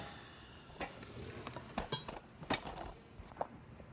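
A wooden spoon stirs mac and cheese in a metal pot, giving a few soft scrapes and light clinks of wood against the pot, close and quiet with short pauses between strokes.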